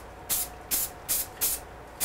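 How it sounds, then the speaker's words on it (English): Short bursts of spray paint hiss around a tree on a large carved sign, five evenly spaced spurts close up over a low background rumble. "Is spraying around that tree."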